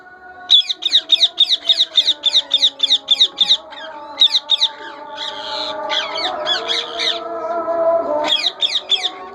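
Indian ringneck parrots in a breeding colony give bursts of sharp, rapid, repeated calls, loud and close, with short pauses between runs and a softer chatter of other birds underneath.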